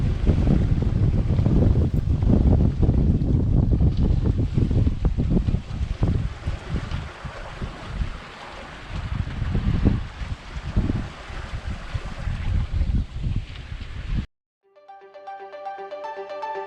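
A Contessa 26 sailboat broad reaching on a starboard tack in gentle trade winds during a solo Atlantic crossing, with the double-reefed main and single-reefed jib set; steady loud rushing wind and water fill the clip, then cut abruptly to a short electronic chime-like tone.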